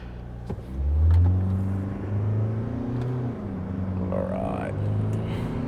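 A dual-cab ute in tow mode with 4A engaged, pulling a trailer and accelerating, its engine rumbling and rising in pitch through gear changes, steady and moderately close, with someone talking over it.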